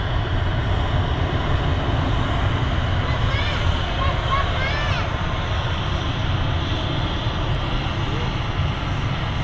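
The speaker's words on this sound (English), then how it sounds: "Got 2 aircraft taxiing out." Jet engines rumble steadily as two aircraft taxi at Manchester Airport, a constant low roar with a faint whine rising over it, while people talk over the noise.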